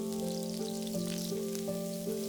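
Oyster mushrooms with onion and pressed garlic frying in oil and bacon fat in a pan, a steady close sizzle over a soft background music bed, no voices.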